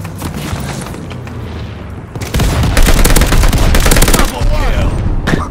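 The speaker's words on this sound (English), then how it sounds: "That's me, grenades." Grenade blasts in a first-person shooter game on the Das Haus map, with a burst of heavy booms and rapid gunfire erupting loudly after a quieter stretch of background game noise.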